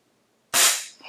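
A single sharp shot from a custom Crosman 2240 air pistol, a loud abrupt crack that decays over a fraction of a second, with faint residual rattle after, heard alone.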